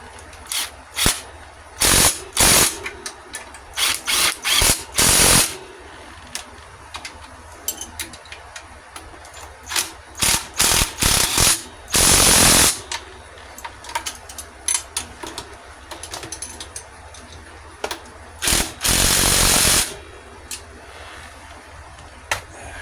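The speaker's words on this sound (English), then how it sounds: "now we're going to tighten up all the bolts for the motor." Bolts are tightened on the motor of a Yamaha TTR-125 dirt bike during a top end rebuild: repeated bursts of sharp ratcheting and clicking, some short and some lasting a couple of seconds, separated by pauses of quiet.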